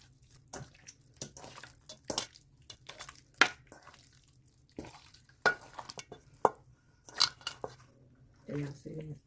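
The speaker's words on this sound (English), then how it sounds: "Let's mix them up some more." Short ribs get stirred with about two tablespoons of flour in a bowl, giving irregular close clinks, taps and scraping under brief talk.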